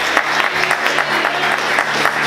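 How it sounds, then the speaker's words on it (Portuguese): Church congregation clapping loudly in response to the pastor, a dense, steady wash of many hands with a few sharper claps standing out, sustained without a break and no voices on top. "Aplauda o Senhor bem forte."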